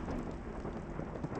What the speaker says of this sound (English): Nobody takes chances with a thunderstorm out on the range.